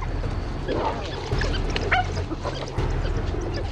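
African wild dogs and hyenas squabble over prey, giving short, chattering yelps and squeals in quick, uneven bursts at moderate distance over a low background rumble.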